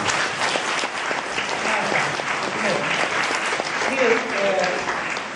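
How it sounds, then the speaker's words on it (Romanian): An audience at a literary gathering applauds steadily throughout, a dense crowd of clapping with faint voices mixed in underneath. "aplauze."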